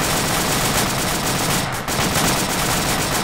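Suppressive gunfire in the military game Arma: loud, continuous rapid automatic fire that blends into a dense roar, with one brief dip in the middle.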